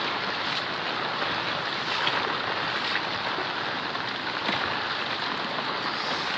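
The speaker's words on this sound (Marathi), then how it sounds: "बघा किती पूर आलेला आहे, पूर्ण रस्ता बुडालेला आहे" Floodwater rushes steadily over a submerged village road during heavy monsoon rain, a dense, continuous broadband roar heard up close with no talk.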